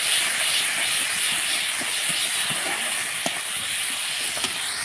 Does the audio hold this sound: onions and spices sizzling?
yes